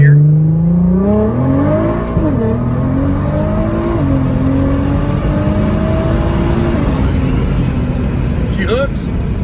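A boosted 600 HP Nissan GT-R engine roars and climbs through the revs as the car accelerates hard, loud and close from inside the cabin, with gear changes dipping the pitch and voices talking over it.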